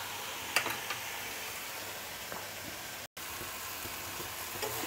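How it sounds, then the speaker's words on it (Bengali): Capsicum stuffing of paneer frying in oil in a pan, a faint, steady sizzle with occasional soft clicks and stirring taps, no voices. "এখন আমি ভাজা করে নেব এটাকে"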